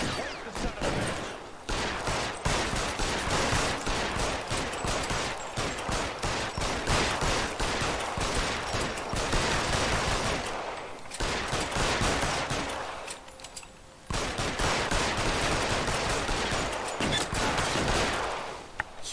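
A shootout in the video game L.A. Noire: dense, sustained gunfire with rapid overlapping shots and bursts, loud and relentless, pausing briefly twice before resuming.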